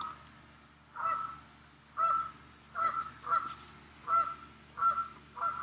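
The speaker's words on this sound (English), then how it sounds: "There are some geese out right now." Geese honking outdoors, agitated, in a series of about eight short nasal calls spaced roughly a second apart, moderately distant over quiet background.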